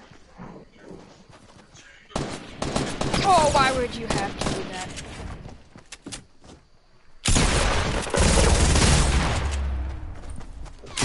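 Gunshots in a video game: two loud bursts of rapid fire, one starting around 2 s and a heavier one from about 7 s, with quieter stretches between and at the start.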